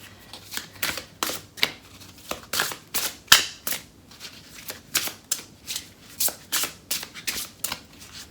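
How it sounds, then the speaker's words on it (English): Tarot cards are shuffled in quick, rhythmic riffles that repeat steadily, crisp and close, with no other sounds. "Let me pull one more card as a clarifier."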